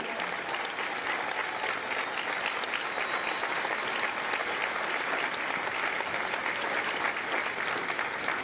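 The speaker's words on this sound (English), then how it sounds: "A round of applause for their dedicated service to Corps and country." Sustained, even applause fills the room as a graduation audience at a Marine Corps recruit depot honors Marines, steady and dense throughout with no voices above it.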